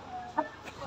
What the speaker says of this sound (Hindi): देखो आज मैं एक नया मुर्गा लाया हूँ